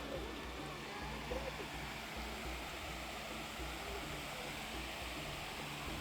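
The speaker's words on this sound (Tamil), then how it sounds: "வாவ், இங்கே ஒரு நேச்சுரல் வாட்டர் ஃபால்ஸ் பார்த்தீங்களா?" Water tumbles steadily at the natural travertine cascades of the Pamukkale thermal pools in Turkey, a constant broadband rush heard from close by, with faint speech in the background.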